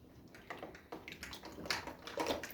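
A child washes toys in water at home, with splashing, sloshing bursts and dripping at an irregular rhythm, close and fairly quiet, with no voices.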